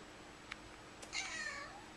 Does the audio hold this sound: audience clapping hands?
no